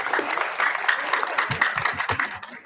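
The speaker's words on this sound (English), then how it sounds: "Big round of applause for Parker." Town hall attendees applaud Parker after a presentation on a new sports complex, a modest crowd clapping briskly and close, with a voice briefly speaking under the applause.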